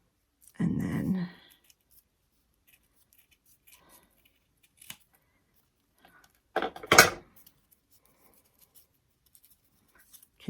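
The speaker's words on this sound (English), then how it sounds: "We're just going to cut them in half." Scissors cut crepe paper in two short, separate snips, each a crisp close rustle and crunch with quiet pauses around them and no talking.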